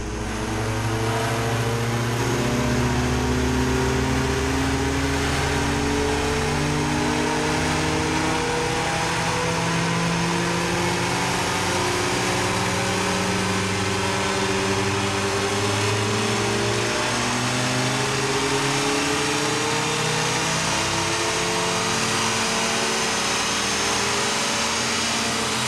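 A Mazda Miata engine revs under load during a straight-line dyno pull with the belt on. The drone is steady and loud, its pitch climbing gradually throughout, with no talking.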